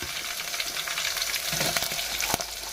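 Green chillies frying in a pan, a bright, dense crackling sizzle close by with a couple of stronger spits and a stir toward the end, no talking.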